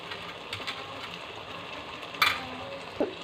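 Okra curry cooking in a pan over medium heat, a soft continuous sizzle with a few light utensil scrapes and two brief sharp clinks of metal near the end.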